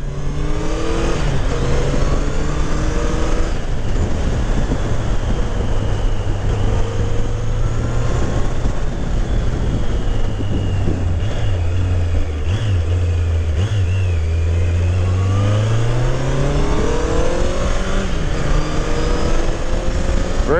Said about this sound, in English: One of the things the Seca was known for was being one of the smoother running motors of that era